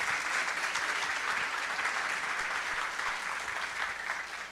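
Audience applause at a panel session of a conference, welcoming a professor who will moderate; steady, dense clapping from a crowd that holds throughout and fades slightly toward the end.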